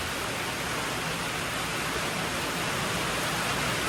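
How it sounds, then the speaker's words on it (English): Heavy rain pours steadily outside, heard from within a garage as a dense, continuous broadband hiss that stays even and loud throughout. "as you can hear, the rain is coming down pretty hard."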